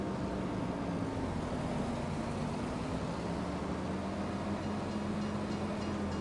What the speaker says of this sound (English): If that train hadn't been there, I would have hit that barrier.